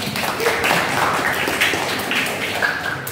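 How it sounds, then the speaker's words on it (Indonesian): Classmates clap for a student in a classroom, scattered, moderately loud hand claps with some murmuring voices across a few seconds. "Tepuk tangan buat Sheila."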